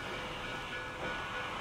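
A train travelling on rails, heard as a steady, close rolling rumble and hiss from inside or beside the carriage, continuous and unbroken with no voices.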